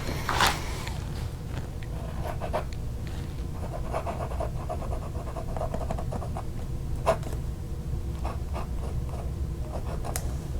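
A fountain pen with an ultra flex nib scratches across paper in steady, close strokes with occasional sharper scrapes over a faint background hum.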